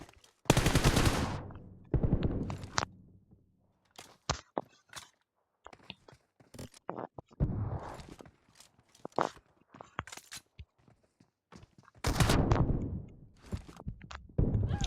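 Video game gunfire arrives in repeated sharp bursts and single loud cracks, some rapid like automatic fire, spread across the stretch with brief quiet gaps and light thumps between.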